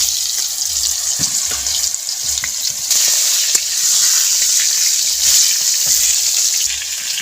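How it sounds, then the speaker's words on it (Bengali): Pointed gourd slices rubbed with salt and turmeric frying in oil in a pan over a wood-fired clay stove, a loud, steady hissing sizzle with scattered soft pops and scrapes throughout. "দিয়ে দেব তেলে ভাজা।"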